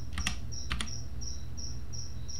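Two quick bursts of close computer keyboard key presses, with a faint steady chirping like an insect outdoors and a low hum behind them.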